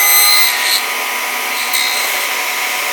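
Table saw cutting a spline slot through a clamped miter joint, a loud, steady high-pitched whine of the spinning blade and cut, constant and close with no voices.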